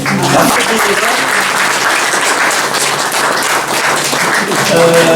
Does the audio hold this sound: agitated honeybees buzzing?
no